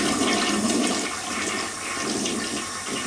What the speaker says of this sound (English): what we call flush test.